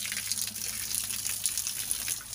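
Cold water from a mountain spring flows inside a railway tunnel under construction, a continuous splashing gush with bright, bubbly spatters, close and steady throughout with a low hum beneath.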